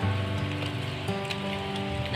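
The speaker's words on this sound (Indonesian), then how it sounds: "hujan deras ya teman-teman" Heavy rain pours down with thunder nearby in an Indonesian home kitchen while pempek lenjer fish dough is kneaded, a dense steady roar filling the background with a low hum beneath it.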